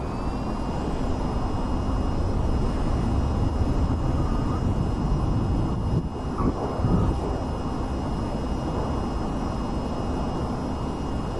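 Aircraft performing a vertical takeoff in the VR flight game VTOL VR, a steady loud engine roar with a high whine held throughout, one brief dip midway, no speech.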